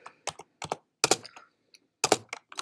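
Bursts of typing on a computer keyboard while entering HTML anchor-tag text, clustered keystrokes in quick irregular groups separated by short pauses, close and fairly quiet.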